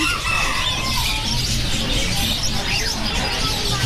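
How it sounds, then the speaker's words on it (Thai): Bantam chickens clucking and crowing close by at a Chatuchak market animal shop, with some wing flapping in a busy, noisy setting. "อันนี้เป็นไก่แจ้สลามอนะครับ"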